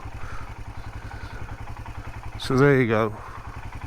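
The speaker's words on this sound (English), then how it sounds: "I'm doing about 5 mile an hour now. So that's the long stroke engine doing its thing" A Royal Enfield Himalayan's long-stroke single-cylinder engine chugs at about 5 mph in a steady, close, low thump, with someone briefly speaking over it partway through.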